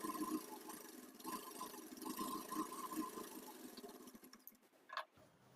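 A sewing machine runs while stitching along a fabric edge, a faint steady mechanical whir with brief pauses, and a sharper clack near the end as it stops.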